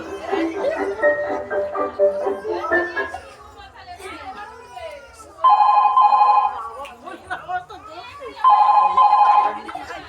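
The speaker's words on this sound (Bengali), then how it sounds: "আমি এখনই ফোন করছি।" Voices talk amid background chatter, then an electronic phone ringtone sounds twice in clear, repeating trilled bursts.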